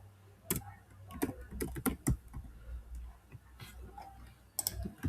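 Fingers type Python code on a computer keyboard, a close, uneven run of sharp key clicks with brief pauses between bursts.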